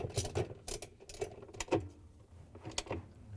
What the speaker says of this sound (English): tighten it down with our 10mm socket